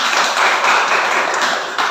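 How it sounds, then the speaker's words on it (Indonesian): Classroom of students claps for a classmate named Doni, a short, loud, close burst of hands clapping that fades within two seconds. "Ya, tepuk tangan untuk Doni."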